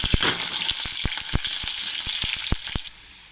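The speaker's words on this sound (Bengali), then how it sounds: "আলুটা আমি লাল লাল করে ভাজবো" Potatoes fry in hot oil for a curry of sweet-pumpkin fritters, giving a steady close sizzle broken by sharp crackles and pops at irregular intervals.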